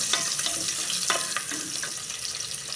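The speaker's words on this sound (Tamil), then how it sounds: "வெங்காயம் நல்லா வதங்கி வரணும்" Onions sauté in oil with cinnamon and cloves in a pan for thalicha, a dense, steady close-up sizzle with a few light stirring clicks.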